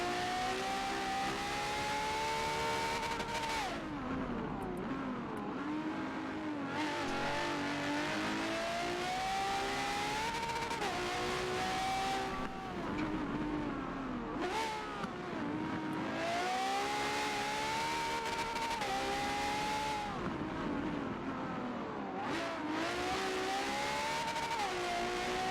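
Race car engines at Brands Hatch in Forza 7 drone loudly and continuously, rising and falling in pitch with each gear shift and corner, with no voices over them.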